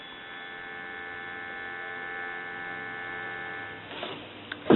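A steady telephone dial tone from a repaired Western Electric wooden wall crank telephone, a continuous even hum held for several seconds before a short clatter of handling at the end.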